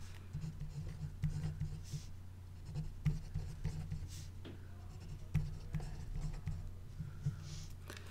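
A pen draws a diagram on paper, giving soft, continuous scratchy strokes with brief pauses, close and quiet over a low steady hum.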